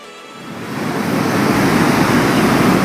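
Night sea surf rolling onto a beach at Puri, a steady broadband wash of breaking waves that swells louder after the first half second and then holds, loud and close, with no voices.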